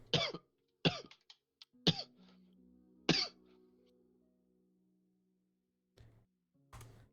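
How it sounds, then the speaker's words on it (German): Several separate coughs, close and fairly loud, spaced irregularly with throat-clearing quality, then a faint steady hum and two more short coughs near the end. "Ist er leicht am Kränkeln oder wo kommt der Husten her?"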